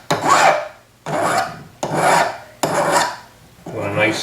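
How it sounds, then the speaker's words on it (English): A hand file rasps across the edges of a sterling silver cuff bracelet in five even strokes, each a rough scraping burst with short pauses between. "So I'm just going to round them off, first with a file"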